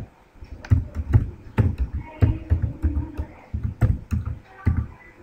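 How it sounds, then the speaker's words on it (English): Rapid, uneven clicking of computer keyboard keys as a password is typed, close and fairly loud, with short bursts of keystrokes and brief pauses, no talking. "Type in my password."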